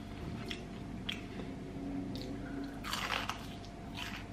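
A crunchy chicken strip is bitten and chewed close up, with several crisp, crackling crunches over a low room hum.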